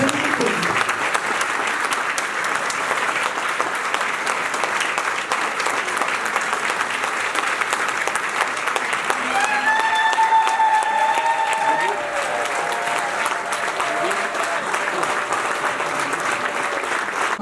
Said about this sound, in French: Merci tout simplement de le faire entrer par vos applaudissements.